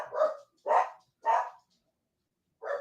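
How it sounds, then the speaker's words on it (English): Dogs bark indoors, four sharp, fairly loud barks in an uneven rhythm with short silences between them. "Sorry, guys, the dogs are barking."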